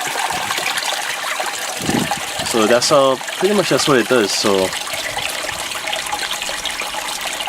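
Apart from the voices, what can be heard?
water gushing out of aquaponics pipe under air pressure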